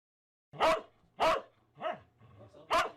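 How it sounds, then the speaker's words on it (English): A dog barks four times in sharp, close bursts roughly half a second apart, with a softer lower growling vocalization between the third and fourth barks. "Have you ever wondered what your dog's bark means?"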